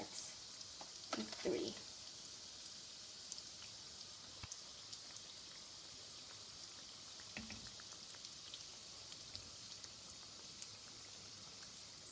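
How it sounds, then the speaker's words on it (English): Eggless donuts frying in hot oil give a faint, steady crackling sizzle throughout, with a few brief clinks and a short spoken word. "you want to fry them until they're golden brown on both sides"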